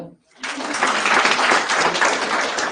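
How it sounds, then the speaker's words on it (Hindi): Steady applause from an audience starts suddenly after a short silence and carries on as a dense, even wash of many hands clapping, loud and close. "ताली बजाओ।"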